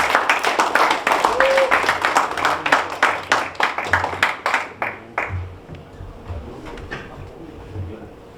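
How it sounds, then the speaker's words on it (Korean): A small audience at a career talk event claps to welcome a company CEO to the stage, a few distinct loud claps that quicken into steady applause and then gradually fade out. "큰 박수로 맞아주십시오."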